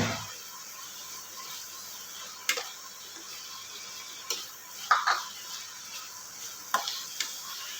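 Ground peanut powder being stirred into shepu (dill) bhaji in a pan, soft scraping and light clinks of a spoon against the vessel at irregular moments over a faint steady hiss, no talking.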